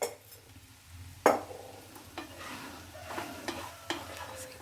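A spoon or spatula scrapes and knocks through a capsicum, onion and chilli egg mixture in a pan, one sharp clack early then several softer scrapes over a light sizzle, close and alone.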